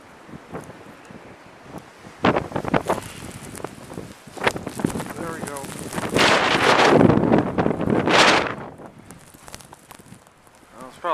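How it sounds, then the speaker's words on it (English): Strong blizzard wind gusting in repeated roaring surges, loudest in a long sustained blast midway, with buffeting rumble on the microphone; speech is faintly present at times. "The winds are a lot stronger than the last storm. We're whipping a lot harder"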